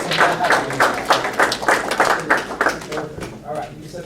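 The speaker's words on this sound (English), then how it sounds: "stand up, turn around, and applaud your family" An audience at an Orlando Medical Institute paramedic gathering stands and applauds their families, a rhythmic burst of clapping that swells and then thins toward the end, with a voice talking over it.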